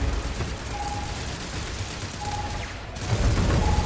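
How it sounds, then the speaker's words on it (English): Turret gunfire in the Starfield space game, a continuous rattling fusillade of rapid shots with heavy low rumbles and brief whistling tones throughout. "Yeah, the turrets are fucking them up."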